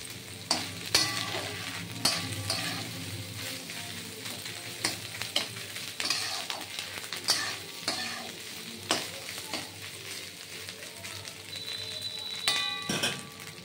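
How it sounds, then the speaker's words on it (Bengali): Grated coconut and mung lentils sizzle in a pan as a spoon stirs and scrapes in irregular strokes, with occasional metallic clinks. "দেখুন মুগ ডালের সাথে নারকেল কোড়াটা ভাজা হবে।"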